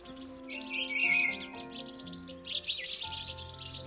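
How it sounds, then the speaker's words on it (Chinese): A flock of Taiwan yuhinas calls in a mountain forest, with quick overlapping chirps and thin twittering notes, fairly close and busy, and no voices. "然後現在這邊都是冠羽畫眉。"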